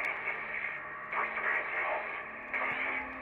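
Radio static and garbled noise crackle steadily from a radio in the survival video game The Long Dark, with a continuous hiss that swells in short bursts.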